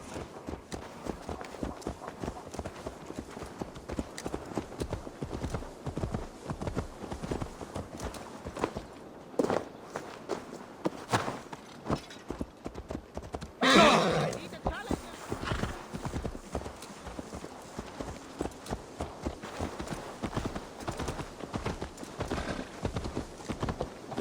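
Horse hooves clip-clop steadily in the Assassin's Creed Valhalla video game, a rhythmic trot with a brief whinny partway through, running beneath talk and game ambience.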